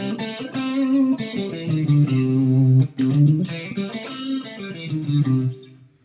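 An electric guitar runs up and down a C blues scale, single notes plucked one after another in a steady line, close and clear, then the last note fades out.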